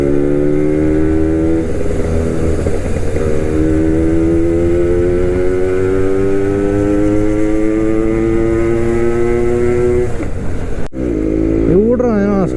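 Suzuki Max 100 motorcycle ridden through traffic, its engine droning steadily and loud with rising pitch as it accelerates through the gears, then a brief gear change near the end; a voice talks over it throughout.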